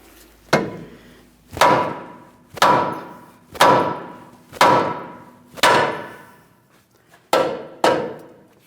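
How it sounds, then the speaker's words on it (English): Seven heavy rubber mallet blows strike the front suspension control arm of a 2015-2025 Ford Transit 250, each a dull thud with a short ringing decay, spaced about a second apart with one quick pair near the end. "When I tap on this, I'm going to attempt using a rubber mallet."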